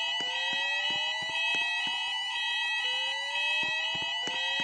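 A mall fire alarm sounds in the building, a loud steady electronic tone broken by rapid regular pulses, repeating without pause.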